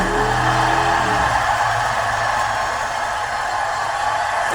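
Motorcycle engine passing nearby, a loud, rough mid-pitched rumble that swells at the start and then holds a steady whirring drone.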